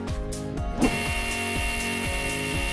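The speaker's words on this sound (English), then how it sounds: "had no trouble cutting through the soft aluminium" A small homemade dovetail cutter made from drill rod mills soft aluminium with a steady close whine, ticking rhythmically as each flute bites, after a short burst of handling noise.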